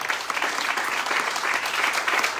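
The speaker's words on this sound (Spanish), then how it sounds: "Denle un fuerte aplauso al que vive." Audience applause at a motivational talk, a dense, steady burst of clapping from a crowd filling the space without a break.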